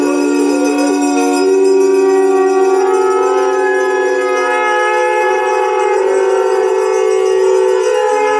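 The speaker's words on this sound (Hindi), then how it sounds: "आइए सुनते हैं वायुमंडल को शुद्ध कर देने वाली शंख की ध्वनि" A conch shell is blown in one long, loud, steady blast during a Raksha Bandhan puja in Uttarakhand, the sustained tone holding for several seconds without a break.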